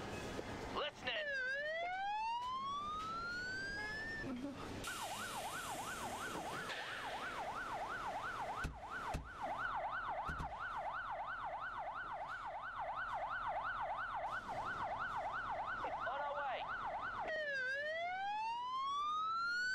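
Ambulance siren from the game Emergency 4: a loud, steady wailing siren that rises in sweeps and then switches to a fast yelp, with a short radio voice reply over it.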